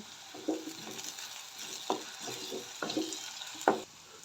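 Curry-leaf tempering being stirred and sautéed in a pan, soft scraping strokes at uneven intervals over a faint, steady sizzle, quiet and close with no talking.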